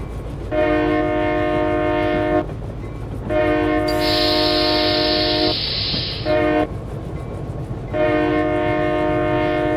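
A freight locomotive horn in Train Simulator 2014 on the Stevens Pass route, sounding in long sustained blasts with short gaps, over a constant low rumble of the moving train and a brief bright hiss mid-sequence.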